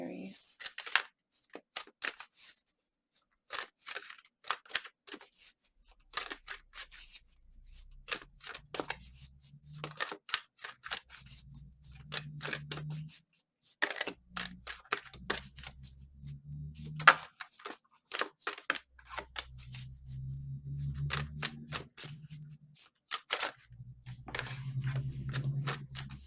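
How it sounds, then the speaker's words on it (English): Tarot cards being shuffled in repeated bursts of quick riffling and snapping, close and crisp, broken by pauses while a person talks quietly in between. "Sometimes you just feel like you need to keep shuffling."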